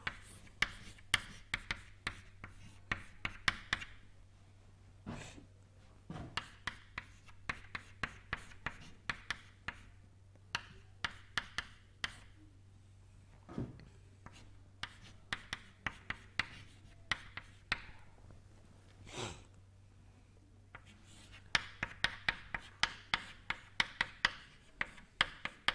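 Chalk or marker taps and scratches across a board during a turbulence lecture, coming in quick irregular bursts of short strokes with pauses between, faint and close, without talk.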